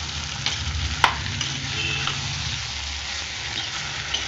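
Tomatoes, onions and curry leaves sauté in a pan for tomato chutney, a soft steady sizzle with occasional stirring scrapes and one sharp clink of the spoon.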